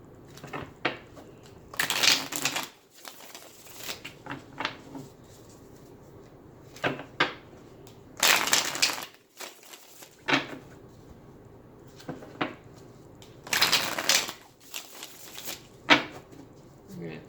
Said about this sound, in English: I'm going to start with shuffling the Cosmic Tarot